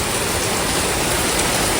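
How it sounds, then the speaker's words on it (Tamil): Heavy rain pours down without letup, a loud, dense hiss of drops hammering on surfaces up close, steady from start to finish with no voices. "செம்ம மழைங்க சரியான மழை பெஞ்சிட்டு இருக்கு"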